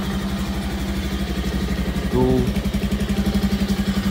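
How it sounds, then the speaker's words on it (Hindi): Motorcycle with a check-engine light fault idling close by, a steady low thumping pulse with a brief rev near the middle, while someone speaks briefly over it. "देखो बाइक स्टार्ट है"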